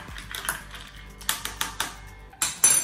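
A fruit juice and seltzer drink stirred in a glass, with a run of sharp clinks and taps from the utensil against the glass, close and fairly loud, no talk.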